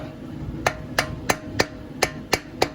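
Seven sharp, evenly spaced metallic taps ring out as a stuck cylinder head is knocked loose on a 1996 Suzuki Quad Runner 250, each hit clear and close over a low background hum, with no talk.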